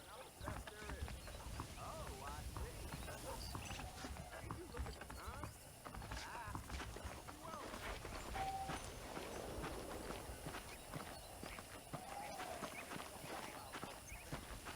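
Horse hooves clip-clop steadily in Red Dead Redemption, a continuous walking rhythm close by under a low rumble of ambient game sound.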